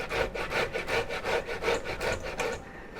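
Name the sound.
beetroot grated on coarse side of a grater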